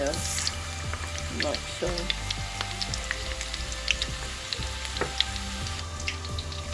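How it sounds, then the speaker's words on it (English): Chicken lollipops sizzle and crackle steadily in hot oil in a fryer, with scattered pops and bubbling throughout as a person speaks briefly. "put it in the fryer. And just drop it in the oil,"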